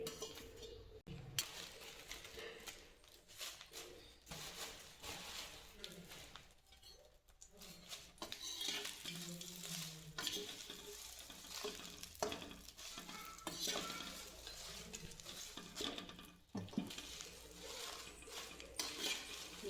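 Whole spices including nutmeg are dry-roasted in a pan for black masala, with steady stirring and scraping plus a soft sizzle throughout, close and fairly quiet, and a few clinks of the utensil.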